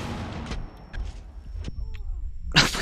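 Video game gunfire: sharp cracks and booming shots scattered through the clip, ending in a loud, dense burst, mixed with other game effects.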